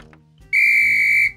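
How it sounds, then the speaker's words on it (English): A lifeguard's whistle at a waterpark gives one loud, steady blast lasting under a second, with children's voices faintly before and after it. "Did you hear a whistle, Jasmine?"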